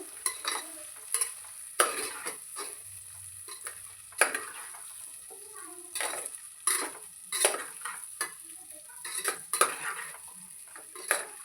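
Paneer cubes fry in a pan while a spatula stirs and scrapes them, as part of making a paneer and vegetable pulao. Quiet sizzling sits under repeated scraping strokes and light metal clinks, with no talk.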